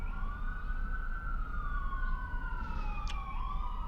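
An ambulance siren passes by outside a porch, its wailing tone sweeping up and down steadily, moderately loud over a low hum of traffic, with a brief sharp click near the end.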